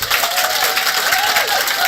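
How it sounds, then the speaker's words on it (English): Close, loud and continuous audience applause closing an awards ceremony, with dense clapping and a few cheering voices on top. "One final round of applause for everyone in the room."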